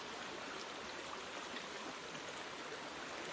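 Steady, broadband rushing of a flowing river, a constant wash with no breaks or voices.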